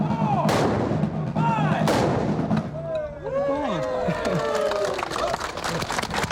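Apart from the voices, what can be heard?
rifle volley gunfire during historical re-enactment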